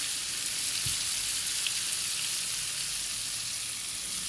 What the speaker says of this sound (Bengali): দেখেন আলু ভাজি আবারও তেল দেওয়া হচ্ছে, কারণ তেলে তেলে ভাজতে হয়